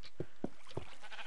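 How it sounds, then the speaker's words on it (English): Sheep bleating in a video game, three short bleats spaced about a quarter second apart, fairly faint and heard alone without talk. "Didn't you hear the sheep?"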